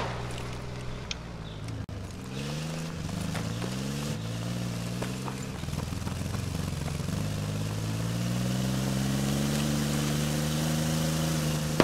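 A tank engine in the video game Squad drones continuously, its pitch rising and falling as it revs and shifts, mid-loud throughout with faint clicks around it.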